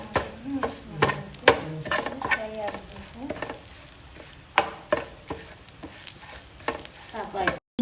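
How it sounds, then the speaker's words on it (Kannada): Garlic and cumin fry in a pan for a Mangalore chicken curry, a busy close sizzle with frequent scraping and clattering stirs, louder early and easing later, no speech. "ಈಗ ಇದಕ್ಕೆ ಸ್ವಲ್ಪ ಜೀರಿಗೆ ಹಾಕಿ ಪುನಃ ಇದನ್ನು ಸಹ ಫ್ರೈ ಮಾಡಬೇಕು."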